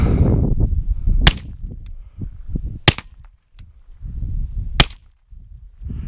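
Three sharp, fairly muted .22 LR rifle shots through a HUXWRX RAD 22 suppressor, spaced a couple of seconds apart, each a crisp crack over a low outdoor rumble, with faint mechanical clicks between.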